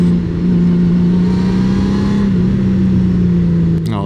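A Honda Gold Wing motorcycle engine in sport mode roars steadily at high revs, a loud sustained drone with a slight pitch rise partway through, then cuts off abruptly near the end.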